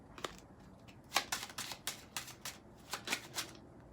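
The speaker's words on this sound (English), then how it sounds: "I'll shuffle twice." A deck of playing cards riffled twice in quick succession, crisp fluttering bursts close to the ear with short pauses between.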